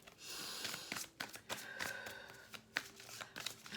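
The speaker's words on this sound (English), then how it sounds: "We're about to cut the deck." A deck of tarot cards is cut and handled close up, giving crisp papery riffles, slaps and rustles in uneven bursts with short pauses between, fairly quiet and free of speech.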